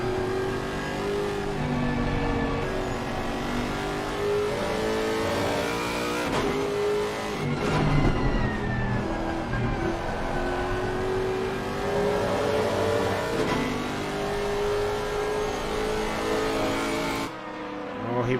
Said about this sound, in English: You can hear that V8 in that Lexus. Very distinctive note.